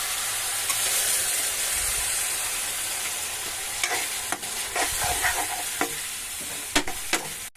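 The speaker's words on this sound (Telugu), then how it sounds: "ఆ పేస్ట్ వేసేస్తున్నాను." Ginger-garlic paste blended with cashews, poppy seeds, tomato and onion fries loudly in a pan for cauliflower curry. A strong continuous sizzle is broken by several sharp scraping and clinking stirs near the end.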